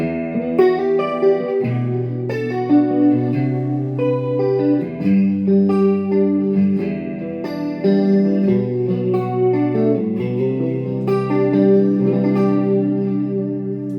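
An electric guitar through a BOSS ME-25 multi-effects pedal plays clean chords and arpeggios with a shimmering chorus effect, loud and alone with no voices.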